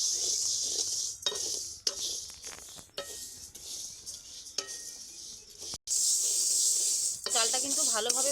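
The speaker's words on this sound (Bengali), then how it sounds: "ঘন ঘন কিন্তু নাড়তে থাকতে হবে একটুও নাড়া বন্ধ করলে কিন্তু চলবে না" Rice sizzles in a sand-free pan as it is dry-roasted to make puffed rice at home, a spatula scraping through it in repeated strokes, with a voice speaking briefly near the end.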